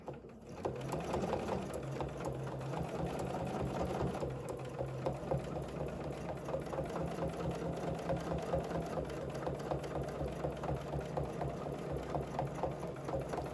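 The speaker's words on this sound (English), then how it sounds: "And then stitch again." A domestic sewing machine runs continuously while stitching a quilt guided by rulers, a steady close mechanical whir and rapid needle rhythm, heard alone.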